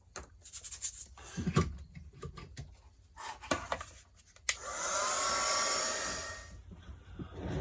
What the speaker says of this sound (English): I'm going to get the heat gun on it.